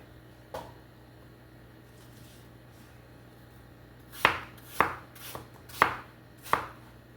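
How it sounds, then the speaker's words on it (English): A knife chopping apples into large chunks on a cutting board: after a quiet stretch with one light tap, five firm, evenly spaced thuds land close by near the end. "this is about how big I'm going to cut them"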